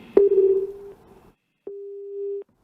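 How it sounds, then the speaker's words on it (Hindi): A telephone busy tone sounds after a call is hung up: a steady mid-pitched tone that cuts off, then returns as a second sustained beep, alone and fairly loud. "इन्होंने फोन काट दिया"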